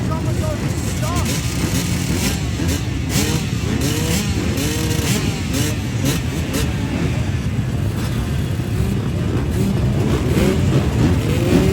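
Dirt bike engines race on a muddy track at Glen Helen Raceway in San Bernardino, California, during an NGPC series event. The engines drone and rev without a break, steady and fairly loud throughout, with talk over them.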